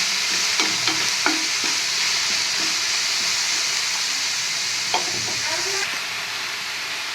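Onions fry in hot oil for a samosa filling, a loud, dense and constant sizzle close up, with occasional scrapes and clinks from stirring in the pan.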